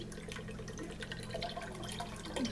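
A can of apricot nectar is poured into a wassail mix, giving a faint, soft, continuous liquid trickle with slight splashing.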